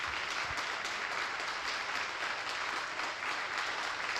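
An audience at a company's second-anniversary gathering claps in a continuous, moderately quiet wash of applause lasting a few seconds, with no speech over it.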